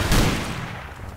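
Gunfire in the survival video game Rust, a short rapid burst of distant-sounding shots that starts loud and trails off into a rattling tail, with no talking over it.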